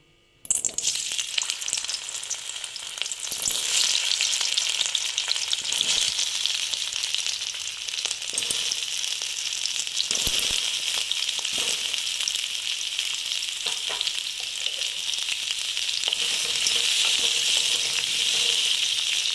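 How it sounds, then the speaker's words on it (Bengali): Boiled potatoes frying in hot oil in a wok for aloo dum, a steady loud sizzle with crackling that begins abruptly and runs on evenly, close up with no talk. "এই যে আলুগুলো সেদ্ধ আলুগুলো আগে আমি ভেজে নেব"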